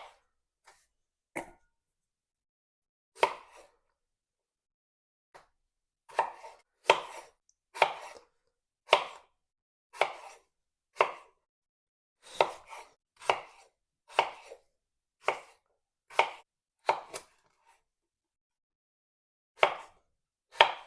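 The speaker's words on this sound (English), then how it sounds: "We're going to chop them into quite big chunks." Potatoes chopped into big chunks for a homemade beef stew: crisp knife thuds on a cutting board, isolated at first and then in quick irregular clusters, close and clear with quiet gaps between cuts.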